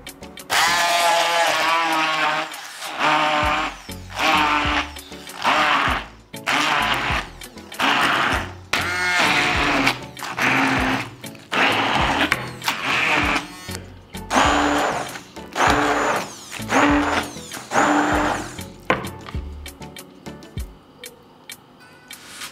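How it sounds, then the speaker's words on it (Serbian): A handheld stick blender purees seasoned vegetables in bursts, its motor whirring loudly and repeatedly starting and stopping with short pauses between pulses, fading at the end. "I zatim ću sve sa štapnim mikserom usitniti."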